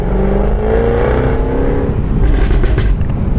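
A powerful car engine revs hard and close, pitch rising through acceleration, a loud throaty roar with a brief crackle near the end.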